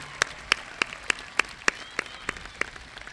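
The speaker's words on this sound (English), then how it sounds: "Please join me in giving these students one more round of applause for their assistance with the ceremony this evening." Graduation-ceremony audience giving a round of applause, heard as sparse, evenly spaced sharp claps about every third of a second, crisp and moderately close over a quiet background.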